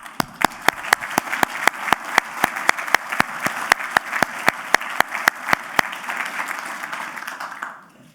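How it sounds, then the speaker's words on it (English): Audience applause at an Operation Homefront event, with a near, loud rhythmic clapping on top of broad crowd clapping that swells steadily, then fades out at the end. "I'm going to applaud that."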